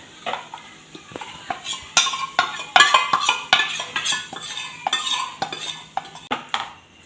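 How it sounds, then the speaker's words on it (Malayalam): A metal spoon stirs a paste of coriander and chilli powder for butter chicken in a cooking pan, giving repeated scraping and clinking strokes at close range with no voices. "ഇനി ഇതൊന്ന് ഒന്ന് ഇളക്കട്ടെ അങ്ങോട്ട് ഒന്ന് മിക്സ് ചെയ്തിട്ട്"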